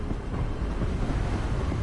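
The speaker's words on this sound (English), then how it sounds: "Got real windy" Gusting wind sweeps steadily in Hogwarts Legacy, a dense, continuous roar with low rumble and buffeting surges throughout, loud and close with no voices over it.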